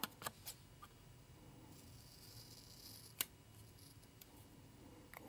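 Scissors snip paper while decorating a Halloween-themed October planner setup, producing a few sharp, isolated cuts spread across a quiet background, close and fairly faint.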